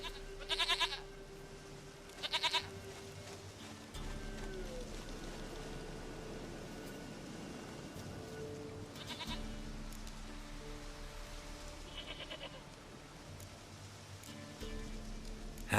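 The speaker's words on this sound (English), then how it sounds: "Goat of mine, dearest, sweetest goat." A goat in The Witcher video game bleats in a few short bursts near the start, with more calls later, over a steady low game ambience and music bed.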